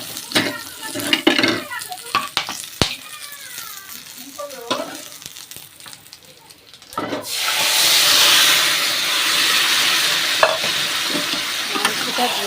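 Whole garam masala, cumin, bay leaves and dry chillies dropped into hot oil in a karahi, with scattered knocks and stirring before a loud, steady sizzle bursts up midway and keeps hissing to the end.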